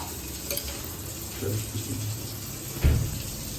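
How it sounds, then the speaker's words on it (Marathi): Garam masala frying with coconut and onion in a pan for a Konkan-style crab dish, giving a soft continuous sizzle under stirring and scraping, with one sharper scrape of the spoon near the end. "आता गरम मसाला थोडा फ्राय करून घ्यायचा आहे"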